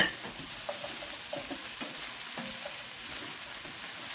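Rice with vegetables, celery among them, sizzles in a pot as a spoon stirs it, soft steady frying hiss with light scraping knocks, fairly quiet and without talk.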